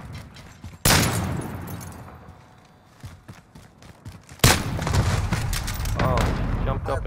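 Gunfire in Call of Duty: Modern Warfare, a sudden loud burst of shots, then scattered quieter reports, then a second heavy volley that rolls into a sustained rumble of fire, with a voice briefly heard.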